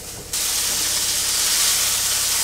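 Sausage and pork bacon frying in a pan without oil, a loud, steady sizzle that bursts in after a brief quiet start and hisses continuously to the end.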